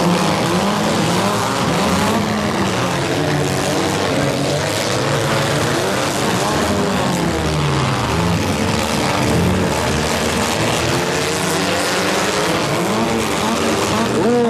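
Stock compact race car engines roar continuously as several cars pass close by on a race track during a heat race, loud and droning, with rising and falling pitch as they speed around.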